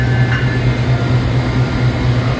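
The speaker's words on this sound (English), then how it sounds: "pulling a train into the station on the next track over" An electric locomotive pulling a train into a station on the next track over, a loud steady low rumble and drone with a pulsing mechanical hum and a faint high whine, close by and unbroken.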